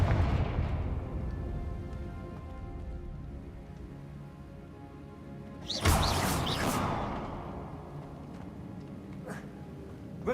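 A Confringo explosive spell is cast in Hogwarts Legacy, bursting as one loud fiery blast midway through and fading into a crackling tail over steady rumbling game ambience.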